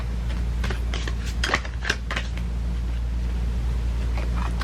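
A deck of tea leaf reading cards is shuffled by hand, giving a quick series of soft papery riffles and flicks over a steady low background hum, with no talking.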